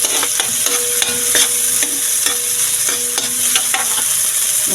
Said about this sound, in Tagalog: Sabay na natin ang garlic and onion.